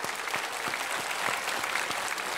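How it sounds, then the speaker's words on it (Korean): Church congregation at a Friday worship service applauding, steady dense clapping from a large crowd heard close and continuous with no talking. "박수로 축하해 줍시다."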